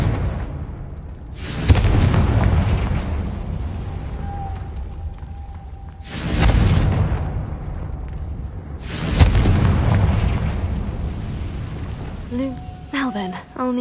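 Fire-spell explosions in the Hogwarts Legacy video game, three loud booming blasts a few seconds apart, each with a crackling rumbling tail, amid game ambience.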